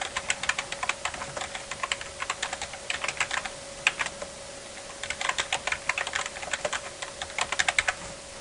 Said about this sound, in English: I'm just typing junk in.